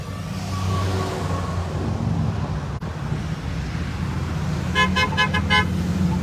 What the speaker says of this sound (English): There's a honk of support